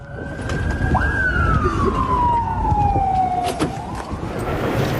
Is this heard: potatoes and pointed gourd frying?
no